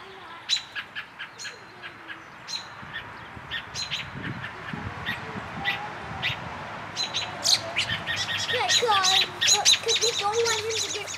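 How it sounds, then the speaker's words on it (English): Agitated adult birds chirp and call repeatedly near a fledgling outdoors, sharp tweets growing busier and louder toward the end over a low rustling background. "Those mama birds say, "Get away from my baby, you human.""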